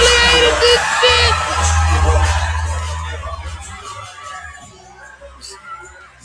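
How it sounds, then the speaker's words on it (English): A club crowd cheers and whoops loudly in a dense burst of shouts and yells, then tapers off into scattered voices and a low murmur as the noise dies down. "Do you see the reaction of the crowd?"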